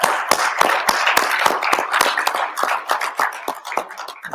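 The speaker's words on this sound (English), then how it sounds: "And we pastors applaud" Applause from pastors standing before a church congregation, a steady patter of many hands clapping at close range, sustained and even throughout with no voices over it.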